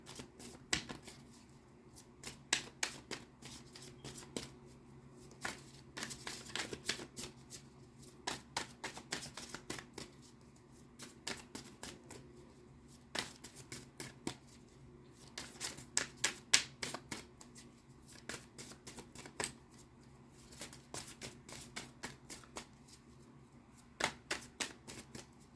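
Oracle cards being shuffled by hand, giving repeated quiet riffling and flicking bursts with short pauses between them, close and soft.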